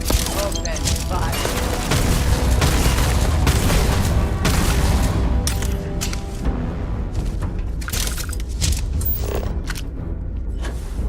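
Gunfire during combat in the video game Starfield: dense, continuous bursts of shots and booming impacts over layered game noise and music, loud and sustained throughout with no pauses.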